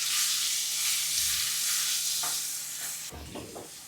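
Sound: ginger, green chili and garlic paste stirred in hot oil

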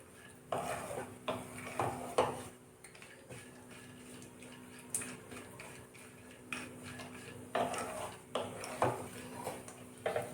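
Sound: almonds and cashews being roasted and stirred in a pan

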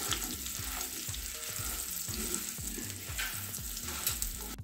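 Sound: mixing spices into colocasia leaf rolls in a frying pan

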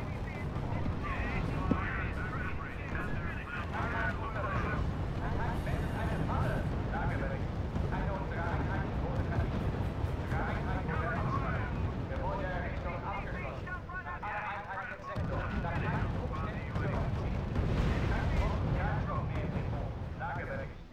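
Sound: fighter-bombers attacking a tank in the video game R.U.S.E

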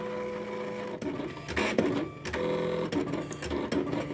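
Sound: Silhouette Cameo cutting machine cutting boxes

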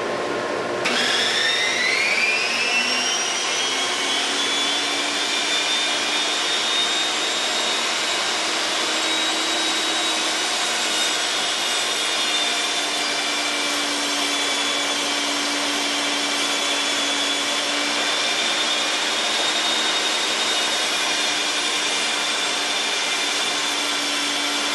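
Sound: saw cutting a spalted log into lumber

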